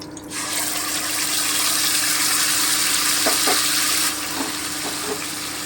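Spices dropping into hot oil in a pan after paneer has been fried, giving a loud, steady sizzle and hiss throughout, with a few small clicks and stirring noises near the end.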